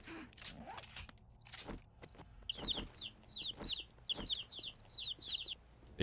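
A chick in the video game 7 Days to Die with the War3zuk mod gives repeated high, quick clucking chirps in short bursts, fairly clear over faint background game noise and clatter.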